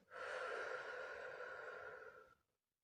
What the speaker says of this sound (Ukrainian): робимо глибокий вдих. Видих